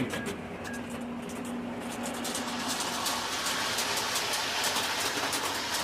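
An O gauge model train runs alongside Scalextric digital cars, giving a continuous mechanical whir and rumble close by, steady and unbroken with faint rhythmic clicks.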